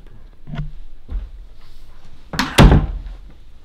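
A door is pushed shut indoors, with a couple of soft thuds early on, then a louder, sharp slam and rattle toward the end, close by with no talking.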